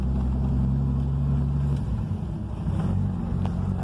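A 1990 Chevrolet Caravan with a six-cylinder engine and a newly fitted exhaust pipe idles loudly and close, a steady deep rumble that shifts slightly in pitch midway; no talking.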